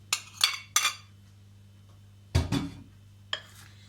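Sharp clinks of two chopped medium potatoes dropping into a dish, three quick ones, a heavier clattering pair, then one more, close by with quiet gaps between.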